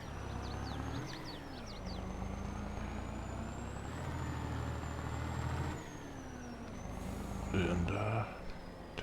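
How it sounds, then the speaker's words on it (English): Peterbilt truck engine in Farming Simulator 22 on a straw harvest farm, a steady diesel drone running throughout with shifting pitch, a brief air-brake hiss and chatter near the end, under someone talking. "fire up Peterbilt, and we need to go get the bale trailer"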